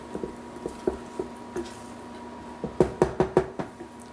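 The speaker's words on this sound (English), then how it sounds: "Give this a little stir." Polenta with butter stirred in a pot, heard as soft wet knocks and squishes from the spoon, spaced out at first and then coming in a quicker cluster of louder strokes near the end, with no voices.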